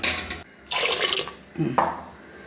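Water is poured over vegetable pieces in a pot of cumin sambar, coming in two short gushing splashes separated by brief quiet, close and fairly loud.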